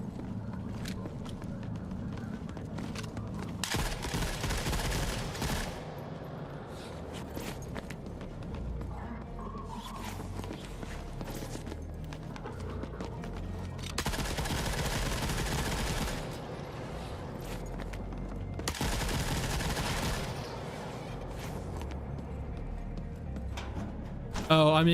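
Bursts of rapid automatic gunfire in the video game Forever Winter, several loud sustained volleys separated by quieter stretches, with someone talking over parts of it.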